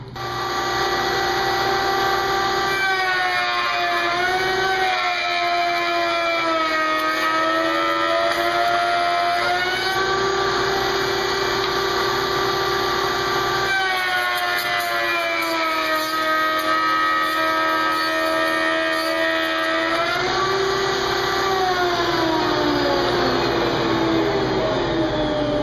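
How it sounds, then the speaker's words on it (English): A router spinning a bit through a test cut in wood while building a pedestal extension table, a loud sustained whine that dips in pitch as the bit bites in at several points, then recovers, running for the whole stretch without talk. "I'm going to make a test cut. I'm just going to creep up on it and see how close I get."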